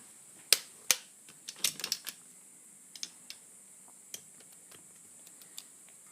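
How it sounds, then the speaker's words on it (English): Small bolts on a Rotax 4-Tec engine from a Sea-Doo rebuild being tightened with a torque wrench in sequence, heard as sharp close clicks: a few loud ones early, then a scattered run of softer ticks, with no talk. "starting on the torquing sequence on the little bolts"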